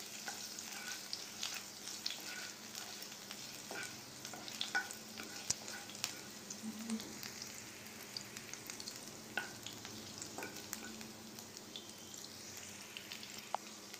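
Ingredients fry in a pan for paneer patties, a faint continuous sizzle broken by small pops and scattered stirring taps, quiet and close with no talking.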